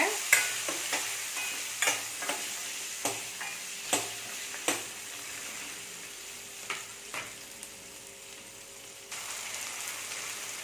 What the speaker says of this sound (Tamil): இப்போ வெங்காயம் தக்காளி எல்லாத்தையுமே போட்டுருவோம் புளியையும் சேர்த்தே போட்டுருவோம் இதை நல்லா வதக்கிக்கோங்க